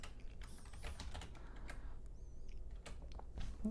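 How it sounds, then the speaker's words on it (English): Rapid, close clicks of a computer keyboard as a Linux command is typed, irregular bursts of keystrokes with brief pauses, alone and fairly quiet. "Then we just type in rw,"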